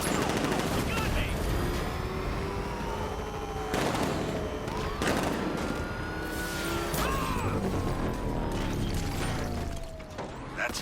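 Gunfire in the video game Batman: Arkham Knight, with bursts of shots over a dense, continuous mix of engines, mechanical noise and music throughout, plus voices speaking.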